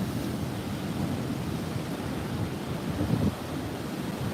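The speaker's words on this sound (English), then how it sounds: "these waves are breaking over this rock on the top of the cliff" Ocean waves break over rocks at the top of a coastal cliff near Fingal, a continuous loud roar of surf mixed with wind buffeting the microphone, with no voices.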